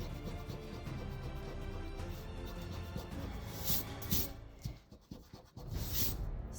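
An eraser rubs pencil lines off a drawing on paper, a continuous close scratchy scrubbing that breaks into short quick strokes near the end, with no speech.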